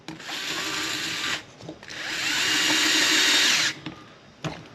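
A DeWalt power drill whirs in two long bursts, high and steady, close by, with short pauses and clicks between runs.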